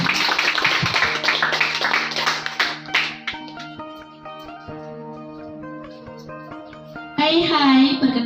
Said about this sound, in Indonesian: kita beri tepuk tangan yang meriah dari Wakil Ketua OSIS dulu, Niputu Rizky Setiana Dewi.